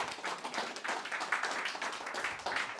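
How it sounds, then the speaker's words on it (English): A crowd claps in continuous applause, a dense patter of many hands at moderate volume throughout, with no talking. "a round of applause"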